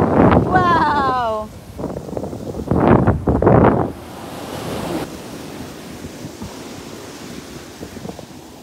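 Sea waves washing onto a beach, a steady broadband roar of surf with wind buffeting the microphone, while voices talk over the first few seconds before the surf continues alone.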